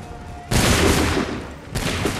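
A massed musket volley in Assassin's Creed 3 erupts as one loud crackling burst, then a second volley follows a moment later, both close and dense.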